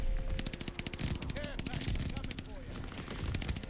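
Rapid automatic gunfire crackles almost without pause through a Call of Duty multiplayer match, steady bursts from a hard-recoiling weapon mixed with other game effects and a player's voice underneath.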